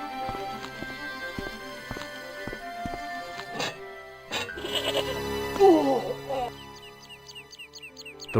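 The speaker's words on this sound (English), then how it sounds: "This goddamn goat." A tethered goat, its rope tangled on an old plowshare, bleats partway through amid clopping hoof-like steps and scraping movement, the bleat wavering and fairly close.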